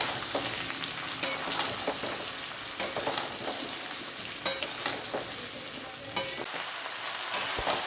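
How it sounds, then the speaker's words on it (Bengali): Jujube berries sizzle steadily in hot oil in a wok for a sour-spicy-sweet pickle, with sharp clattering spatula strokes breaking through every second or so, close and fairly loud, with no voices. "কুলগুলি দিয়ে দেব কুলগুলি দিয়ে ভালো করে নেড়ে নেবো"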